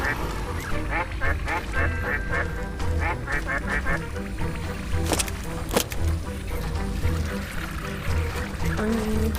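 Ducks quacking in a video game, a quick series of bright, repeated quacks in the first half, then a couple of sharp clicks and a continuing dense game soundscape, fairly loud.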